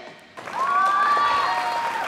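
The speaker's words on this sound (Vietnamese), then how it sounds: "Đẹp vỗ tay đi." Applause breaks out in a gym, starting abruptly and holding as a steady wash of clapping with a whistle-like tone running through it.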